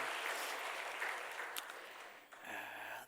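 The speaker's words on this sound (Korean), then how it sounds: "우리 박수로 격려하도록 하겠습니다" A church congregation applauding four elders at a worship service: a dense, even wash of clapping from many hands in a large room that fades out toward the end, without talk.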